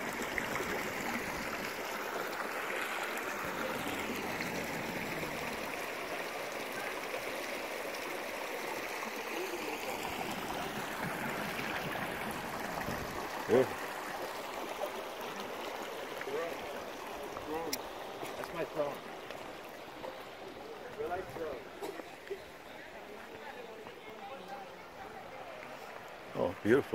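Water from a stream flows in a park, a soft continuous rushing and trickling that stays at moderate level under intermittent talk from people nearby, with a few louder bumps toward the end.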